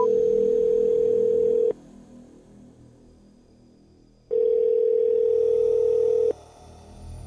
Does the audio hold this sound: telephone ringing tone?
yes